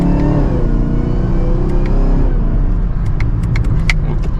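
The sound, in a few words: 2024 Chevrolet Camaro ZL1 accelerating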